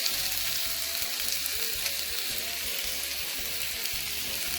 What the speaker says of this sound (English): here I'm throwing the green beans